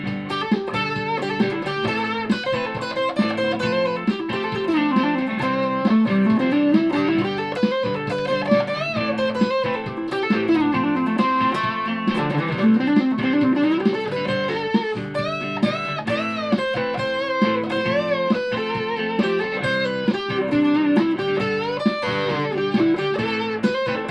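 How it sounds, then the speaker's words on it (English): An electric guitar plays continuous melodic lines through a Washburn Stack In A Box pedal's mildly distorted tone, notes sustaining and overlapping with a slightly gritty edge, no voices. "Go for what I'm classing as mild distortion, my washburn stacker box."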